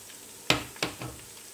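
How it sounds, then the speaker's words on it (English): Nigerian assorted meat stew base of onions, garlic, thyme, rosemary, bay leaves and salt sautéing in a pan, a low sizzle broken by two or three sharp stirring bursts, close and without talk. "Some rosemary and bay leaves and salt, and I will allow it to saute for 1 minute."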